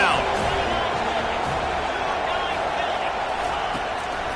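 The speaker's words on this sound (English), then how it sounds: "Decibels rising as the crowd gets behind this defense on 3rd down" Steady, loud stadium crowd roar builds on third down in an NCAA college football video game, a dense continuous wash of cheering with a speaking voice likely mixed in underneath.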